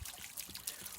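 Water drains from a travel trailer's hot water heater tank, a faint close trickle and splash with small irregular spatters throughout.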